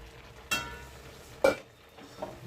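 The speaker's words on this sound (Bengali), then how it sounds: "সব সবজিগুলো খুব ভালোভাবেই সেদ্ধ হচ্ছে।" Mixed vegetables for pav bhaji simmer in a covered kadai on the stove with a low, steady bubbling, broken by two or three sharp metallic clanks of the lid or a spoon.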